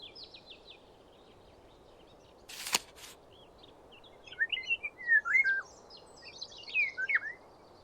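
Montagu's harrier calls in the Wingspan bird game: a series of thin, high chirping notes in quick clusters over a faint background, with one sharp click partway through.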